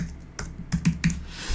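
A computer keyboard is typed on in a short, quiet burst of about five crisp keystrokes in an otherwise calm room.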